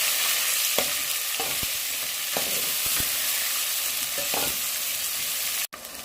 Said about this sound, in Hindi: उसी ऑयल में हम प्याज़ों को फ्राई करेंगे।